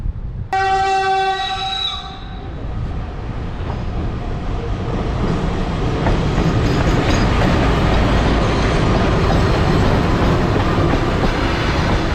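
A train pulls into a station in Georgia with a loud horn blast, then a sustained close rumble of rolling wheels and wagons with faint clickety-clack, no voices.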